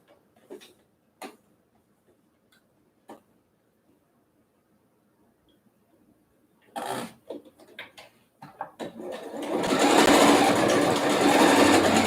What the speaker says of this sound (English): And then I just need to sew one more seam and I am all done.